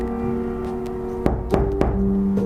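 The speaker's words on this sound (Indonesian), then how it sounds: "tiba-tiba terdengar suara ketukan dari bawah lantai." Three or four distinct knocks from beneath a wooden floor at uneven intervals, cutting through a steady humming drone in the background.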